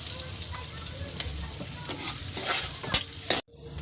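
Chopped onion sizzles in hot oil in a pan, a continuous crackling fry broken by scraping stirs, then a sudden cutoff leaving faint hiss.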